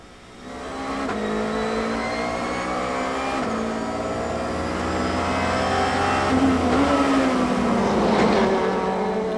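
Audi, BMW and Peugeot touring cars race at the Zandvoort circuit in the 1997 Belgian Procar series, engines roaring loudly and steadily with rising and falling revs as the cars pass and shift gears.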